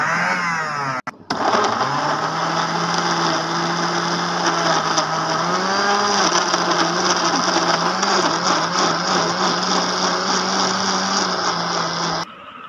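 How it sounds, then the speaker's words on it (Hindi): Electric blender jug grinding whole garlic cloves into a paste, a loud steady motor whine with a fluctuating grinding pitch, running continuously alone after a brief start and cutting off near the end. "साबुत लहसुन डालें इसमें, उसके बाद इसे पेस्ट की शक्ल में ले आएँ।"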